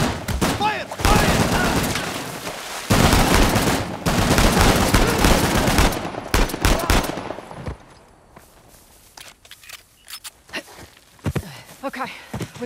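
Heavy automatic gunfire during an ambush in Uncharted: The Lost Legacy, loud sustained bursts for several seconds, then sparser scattered shots with footsteps and shouted voices.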